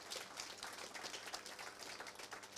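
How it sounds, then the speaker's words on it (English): Audience applause at a fall graduation ceremony: a steady, dense wash of many hands clapping at once, continuous and moderately distant, with no distinct voices rising above it. "Round of applause."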